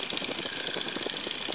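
Radial engine of a Boeing Stearman PT-17 biplane in flight, a steady, fairly faint mechanical drone with a rapid rattling beat, heard alone without talk.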